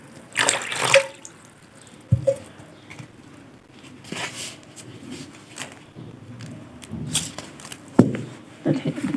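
Water added to flour while dough for reshta noodles is kneaded by hand: intermittent wet splashes and drips with soft squelching knocks between them, close and fairly quiet.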